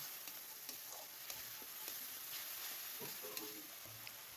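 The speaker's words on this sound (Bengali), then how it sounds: "একটু ভালো করে ভাজবো।" Turmeric and green chilli spices for rohu fish kalia fry in oil in a pan, a soft continuous sizzle broken by occasional light scrapes and taps of a spatula stirring, fairly quiet and close.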